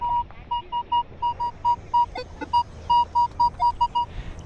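A metal detector sweeping a beach target beeps in a steady run of short, evenly spaced electronic tones, about a dozen in a row, close and clear over a low background hum.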